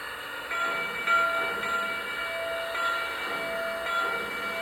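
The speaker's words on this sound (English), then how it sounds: "here's that great bell, and watch what happens when I ring it." The bell on a Lionel Visionline 4-6-4 700E Hudson model steam locomotive rings in repeated even tones over a low steady hum, fairly quiet and with no voices.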